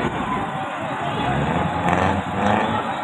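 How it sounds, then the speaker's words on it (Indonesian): A Toyota Avanza passes nearby in the town of Langsa, its engine hum and road noise steady and fairly loud against a busy crowd background with people talking. "inilah dia mobil Avanza yang sangat terkenal di Kota Langsa"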